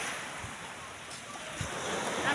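Steady surf washes in and out at Tikling Sea, a continuous broadband rush of breaking waves mixed with gusty wind buffeting the microphone, moderately loud with no clear pauses.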